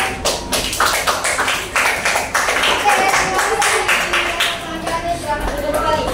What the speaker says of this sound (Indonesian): Kita kasih tepuk tangan dulu buat kelompok 5.